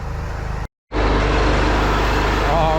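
A pressure washing rig's engine runs close by with a loud, steady rumble. It cuts out for a split second, then returns just as strong and holds an even drone.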